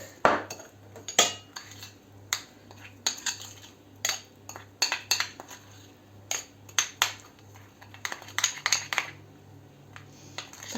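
A fork or whisk beats a sugared mixture in a bowl before it is brushed onto corn for oven baking, giving quick irregular bursts of close metallic clinks against the dish with no talking.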